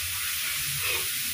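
Spice paste for Padang-style meat sautéing in hot oil in a home kitchen, a steady close sizzle with a faint stirring scrape, continuous and fairly loud with no voices.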